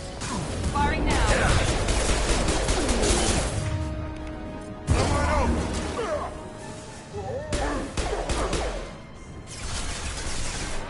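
Bursts of gunfire and crashing impacts from the video game Mass Effect 2, loud clusters of shots separated by brief pauses, mixed with whooshes and voices speaking.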